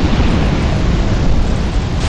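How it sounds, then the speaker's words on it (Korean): A bomb explodes in the video game Dark Souls 2, a loud, dense, roaring blast that stays heavy and rumbling across a couple of seconds. "아 폭탄 터져서 센 거겠지?"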